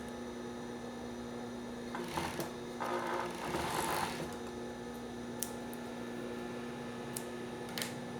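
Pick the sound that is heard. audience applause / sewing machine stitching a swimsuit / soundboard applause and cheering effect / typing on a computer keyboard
sewing machine stitching a swimsuit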